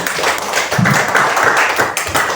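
A classroom of students claps for a correct answer, a burst of dense, uneven hand claps close by that carries steadily for a couple of seconds.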